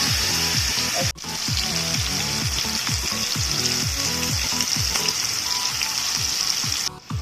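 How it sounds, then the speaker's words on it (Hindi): Chicken frying in oil over a low flame for a homemade KFC-style crispy chicken burger, giving a steady loud sizzle with repeated rhythmic stirring scrapes, close up and with no talking. "चिकन को गोल्डन ब्राउन होने तक पकाएं धीमी आंच पे ताकि चिकन अच्छी तरह से सीख जाए, पक जाए"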